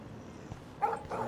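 A small dog in Life is Strange lets out two short yips or barks close by, separated by a brief pause, over faint background ambience.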